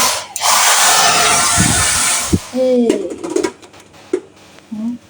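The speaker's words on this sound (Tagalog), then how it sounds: "Tapos ito, hair blower." A hotel room hair dryer blows with a loud, steady whooshing hiss for a couple of seconds, then cuts off, leaving clicks, handling noises and brief vocal sounds.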